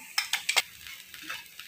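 A ground spice mixture being stirred into fried bitter gourd in a frying pan: four quick scraping clinks of a spoon close up, then softer scrapes over a faint sizzle.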